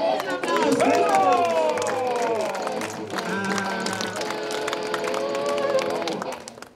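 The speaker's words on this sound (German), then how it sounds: "Applaus!" An audience at a German competition event in a cultural venue erupts, with many voices shouting and cheering over clapping in a sustained, loud burst that fades at the end.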